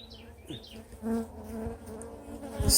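Honey bees buzz around an open hive frame holding eggs and brood, a close, busy droning hum with individual bees passing near, brief and without talk.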